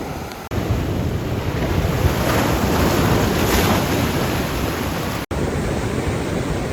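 Ocean waves wash onto a beach in San Juan, Puerto Rico in a loud, continuous roar, with heavy wind buffeting the microphone and no talking.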